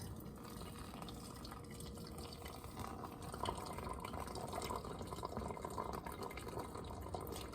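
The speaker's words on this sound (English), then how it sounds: "The slow pour." Liquid poured slowly into a container, a continuous soft trickling and splashing that holds steady and grows slightly fuller partway through, close and fairly quiet, with no talking.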